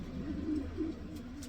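Pigeons in a breeding loft give a soft, low cooing call, a short rolling coo repeated once or twice close by, with no talking.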